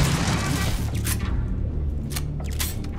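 Heavy booming turret fire in the Starfield video game, rumbling continuously across the whole stretch with a few sharper bursts standing out, loud and close, no one talking over it.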